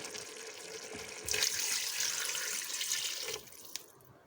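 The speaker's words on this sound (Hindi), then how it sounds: "अब मैं इसमें शामिल करूँगी 1 गिलास पानी का।" A glass of water poured into a pot of fried mutton for biryani, a close splashing pour that swells loudly at about a second in, runs steadily, then cuts off, leaving quiet drips.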